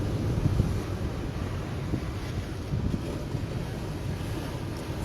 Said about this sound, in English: so you hear the thundering sound of the waves